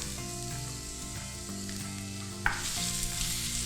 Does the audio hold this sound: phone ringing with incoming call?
no